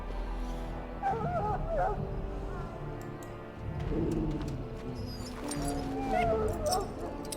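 A dog in the Dragon Age: Origins video game barks and whimpers in short bursts of yips and whines over looping game music, with brief spoken lines in between.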